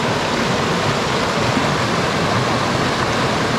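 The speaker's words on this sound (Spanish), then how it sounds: "en la fuente, en el manantial de Chilchota." Spring water pours steadily at the natural spring of Chilchota in Michoacán, a loud, even rushing wash with no pauses and no voices.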